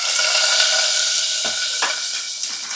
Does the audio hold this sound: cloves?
yes